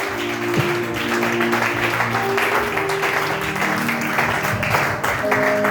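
Worship congregation applauding together, a dense steady wash of clapping from a crowd in a church setting, with sustained tones and voices mixed underneath throughout.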